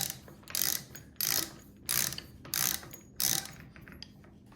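A Milwaukee 3-in-1 lineman's high-leverage ratcheting wrench turning a 1 1/8 inch square nut gives five bursts of rapid ratchet clicking, each about half a second long, separated by short pauses, close and clear with no talk.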